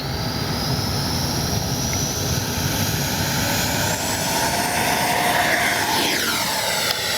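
The turbine of an RC model L-39 jet whines steadily, loud and close, as it takes off. A rising, sweeping tone suggests a pass or a climb near the end.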